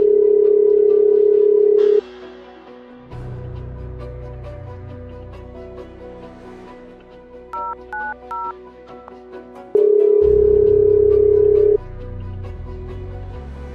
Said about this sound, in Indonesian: Aku coba telepon ibu polisi.